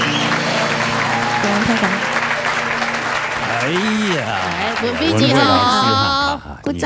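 A studio audience applauds on a Taiwanese variety TV show, with steady clapping mixed with voices and sustained musical tones before it fades out at the end.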